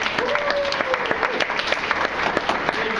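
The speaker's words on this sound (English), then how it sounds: "Let's give all of our poets another round of applause." A crowd applauding at a poetry slam, dense rapid clapping that holds steady throughout, with a voice briefly cutting through over it.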